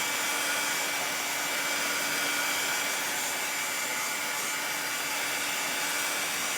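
A hair dryer blows continuously over wet red paint, a steady loud close whoosh that holds the same tone from start to finish, with no voices.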